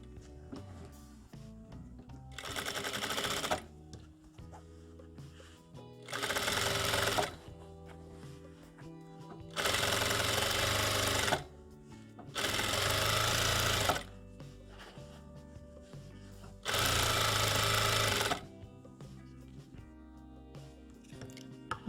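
A sewing machine stitching fabric for an infant car seat insert, five loud close bursts of rapid stitching separated by quiet pauses, with soft music underneath.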